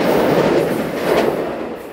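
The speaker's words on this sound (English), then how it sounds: "There's the Amtrak, baby. Can you hear my voice over the train?" An Amtrak passenger train rolls past a California beach, a loud, steady rumble with rhythmic wheel clatter close by, carrying on throughout without voices.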